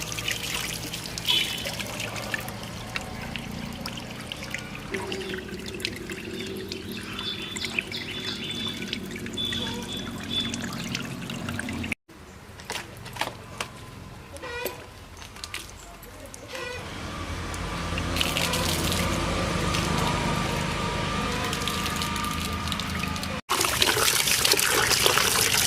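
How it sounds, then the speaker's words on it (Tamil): Water runs and trickles steadily while goat lungs are rinsed in a home kitchen, a continuous splashing flow that shifts in intensity, with voices talking over parts of it. "இது முதல்ல வாஷ் பண்ணிக்கலாம்."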